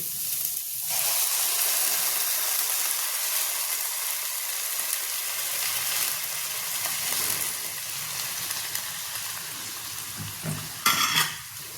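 Spices tipped into a sizzling pan for chicken green curry, with a loud continuous fry hiss, a utensil stirring and scraping, and a few sharp metallic clinks of the pan near the end.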